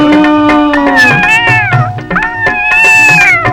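A cat meows loudly and repeatedly up close, drawn-out plaintive calls with rising and falling pitch, one after another with no other sounds.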